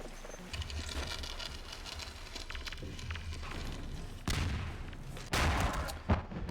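Grenade, rocket and shotgun blasts in a Half-Life 2: Deathmatch 1v1 match, a steady crackle of gunfire broken by two loud, sharp explosions near the end.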